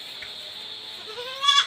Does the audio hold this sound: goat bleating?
yes